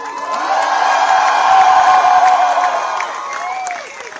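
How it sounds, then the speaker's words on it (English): A large crowd at India House cheers for Indian wrestler Vinesh, a loud sustained roar of shouts, whoops and applause that swells, holds for several seconds, then begins to fade. "let's send Vinesh the loudest cheer to show her that she is not alone in this challenging time"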